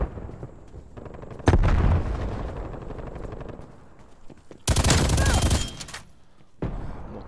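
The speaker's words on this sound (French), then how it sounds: "Grenade envoyée." A grenade blast and gunfire in Call of Duty Black Ops Cold War produce loud, dense bursts of shooting and explosions in two main waves, with a shorter burst at the end.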